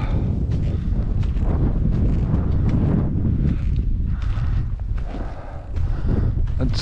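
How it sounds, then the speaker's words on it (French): Wind gusting across open snowy tundra under grey clouds, a steady broad roar buffeting the microphone for the whole stretch with a brief dip near the end. "le vent qui souffle là"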